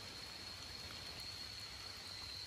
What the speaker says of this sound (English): why am I walking around in the rain when I could be driving?